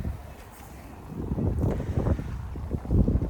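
Gusty winter wind blowing outdoors, a low rushing roar that swells and buffets the microphone, growing stronger toward the end with no talking.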